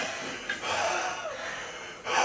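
A person breathing heavily in gasps and snorts, close to the microphone, during an indoor jack-o'-lantern carving, with faint voices and breathy chuckles mixed in.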